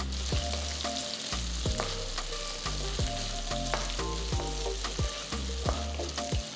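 Close, constant sizzling of onions and curry leaves frying in a pan with intermittent scraping and clinks from stirring, no talking.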